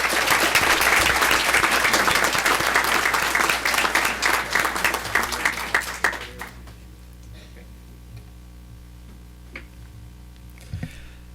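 Audience at a school board of education meeting applauds a student, dense clapping for about six seconds that thins into scattered claps and fades to a quiet room with a few stray taps.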